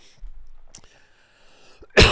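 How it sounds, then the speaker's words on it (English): A quiet stretch with faint vocal sounds, then an abrupt, loud burst like a single cough at the very end. "that was a real cough"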